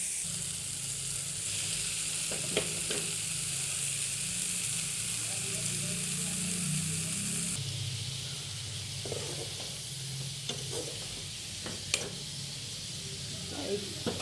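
Tomatoes sizzling steadily in a pan as they are fried down for a fish and spinach curry, with a few sharp stirring clicks and scrapes over the continuous frying hiss.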